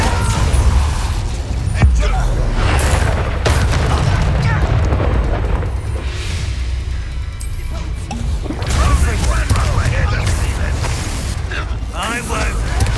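The Incendio fire spell in Hogwarts Legacy goes off in repeated booming, crackling bursts amid a dense, loud battle soundscape, with voices shouting over the effects.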